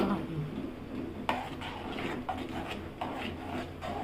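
A spoon stirs thick rice flour papad batter in a pot, making close rhythmic rubbing and scraping strokes with occasional soft knocks, while faint background voices and music are also present.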